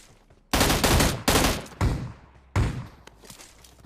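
Four loud bursts of gunfire from a BGMI battle-royale match, rapid volleys of shots in close succession separated by short pauses, with no talk over them.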